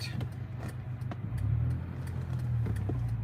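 Cars and road traffic at a busy intersection beside traffic lights and construction, with steady engine rumble and passing vehicles close by and no talk.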